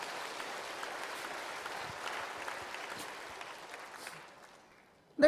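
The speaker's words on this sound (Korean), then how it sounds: "키워주신 목사님 박수 한번 해주세요" Church congregation clapping for a pastor, a steady dense patter of applause that holds for several seconds, then thins and fades out near the end.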